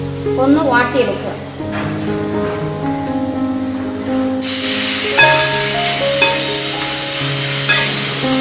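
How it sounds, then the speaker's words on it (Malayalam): Finely chopped shallots sautéing in a pan. Background music plays throughout, and midway a loud, steady sizzling hiss breaks in and continues beneath the music. "ചെറുതായി കൊത്തിയരിഞ്ഞ ചെറിയുള്ളി"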